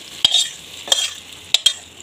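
Tadka being added to kadhi, brief bursts of sizzling and spatter in four separate short spurts over a quiet background.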